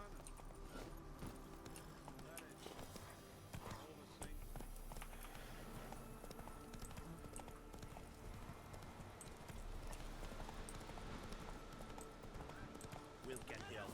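Roach, the horse in The Witcher 3, clip-clops at a steady trot with rhythmic hoofbeats throughout, fairly quiet, while voices talk over the game.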